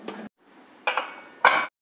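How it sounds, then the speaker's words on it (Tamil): A rice pressure cooker has its lid closed and is set on a stove, giving three short metallic clinks and clatters at close range, separated by brief quiet gaps. "இதை மூடி போட்டு அடுப்பில் வச்சிடலாம்."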